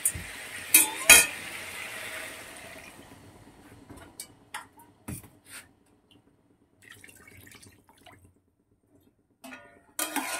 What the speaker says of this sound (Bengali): এখন বন্ধুরা কষানো কমপ্লিট হয়ে গেছে, এবার আমি জল দিয়ে দেবো।